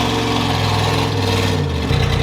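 A 1971 crew cab truck engine with EFI runs rich and rough, a loud, close, continuous rumble with a shift in pitch near the end.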